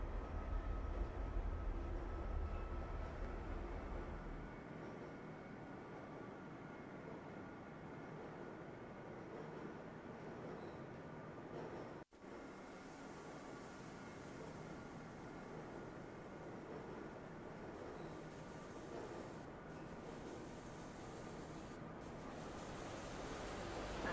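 A train rides through the Black Mesa compound in the video game Black Mesa, a steady low rumble of the moving car with a brief dropout midway and faint mechanical clanks.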